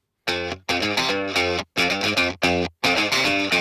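Distorted electric guitar played through a Neural DSP Morgan AC20 amp simulator, five loud, crunchy strummed chords separated by short silences, each ringing briefly before being choked off.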